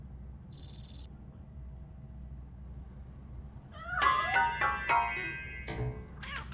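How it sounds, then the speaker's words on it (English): A cat meows several times in a video game, the cries coming from inside a piano, rising and falling wails in the second half, preceded by a brief high electronic tone, with no talk. "That cat must be hiding inside."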